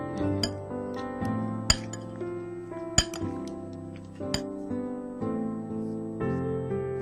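A spoon mixing ingredients dressed with lemon juice in a bowl, making repeated close, bright clinks and scrapes against the dish in an uneven stirring rhythm with a few louder knocks.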